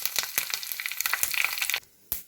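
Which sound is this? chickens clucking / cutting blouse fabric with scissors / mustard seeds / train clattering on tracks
mustard seeds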